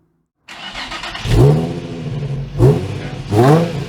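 A 2017 Nissan Navara 2.3 dCi 4x4 double cab pickup starts, then its diesel engine revs in three distinct surges close by, settling back to a rough idle between each rise, with no talking.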